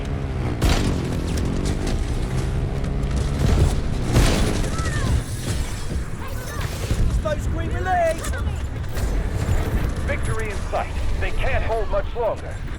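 Deep booming blasts and gunfire-like bursts roll under constant, excited overlapping talk, with battle noise filling the mix throughout, during a match in the video game Delta Force.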